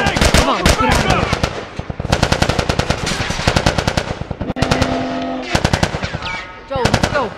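Gunfire in The Last of Us video game, rapid bursts of automatic weapon fire and single shots in a loud firefight, broken by brief pauses, close and intense.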